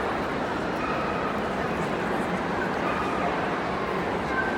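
A working dog yips and whimpers at a Crufts display, its faint calls buried in a steady wash of arena crowd noise with talk throughout.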